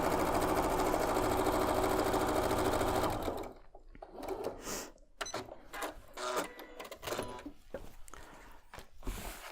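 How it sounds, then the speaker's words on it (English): A sewing machine runs steadily and loud while stitching a butterfly quilt block, then breaks into short stop-start bursts of stitching with brief pauses between them. "We're going to sew all the way to the middle section"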